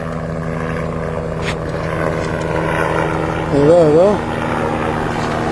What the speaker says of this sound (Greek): Εδώ είναι ένα ελικόπτερο που έρχεται κατά πάνω μας.